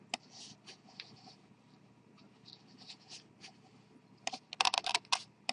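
Typing on a computer keyboard, close up: irregular, scattered keystrokes that build to a quick, louder cluster of clicks near the end.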